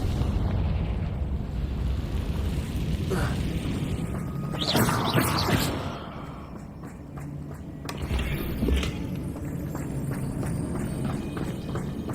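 A Confringo fire spell bursts in a Harry Potter video game, a loud blasting whoosh near the middle standing out over steady game ambience and music, with a second smaller burst shortly after.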